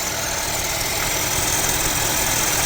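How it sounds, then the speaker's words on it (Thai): A loud, steady mechanical drone from a Mercedes-Benz CLA W117 engine's faulty water pump with coolant loss, whirring continuously, close up, with a harsh, rough hum and no pauses. "เสียงปั๊มน้ำวะ เสียงดังน่ากลัวมากอะ"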